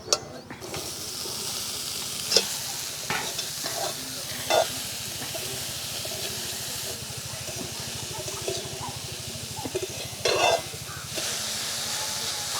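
Beetroot and carrot fry with ground spices in a pan, a soft continuous sizzle and hiss with occasional scraping stirs and brief clicks, moderately close and fairly even throughout.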